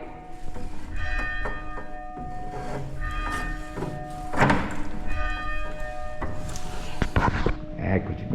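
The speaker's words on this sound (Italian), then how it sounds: "abbiamo sentito anche il meraviglioso suono delle campane in questa contrada cimbra" Church bells ring from a bell tower in a small Cimbrian hamlet in the Lessinia hills, with sustained metallic tones and a few louder strikes sounding fairly close, no talking.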